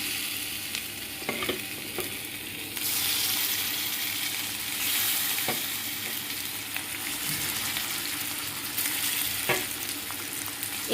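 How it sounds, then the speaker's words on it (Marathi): Masala-coated fish frying on a tawa over low gas, a steady dense sizzle running throughout with occasional sharp crackles and pops, close and fairly loud, with no voice. "एका साईडला आपली मच्छी मस्तपैकी फ्राय होती बारीक गॅसवरती"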